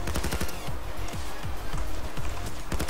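Rapid bursts of automatic gunfire from a turret in the Payday 2 video game, loud and close, with repeated sharp shots running through the whole stretch.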